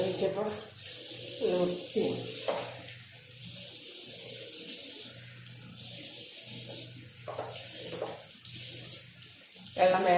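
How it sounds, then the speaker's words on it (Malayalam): Water runs steadily from a tap while a bathroom is being cleaned. The flow is a continuous, moderately loud wash, with a voice speaking intermittently over it. "വെള്ളം"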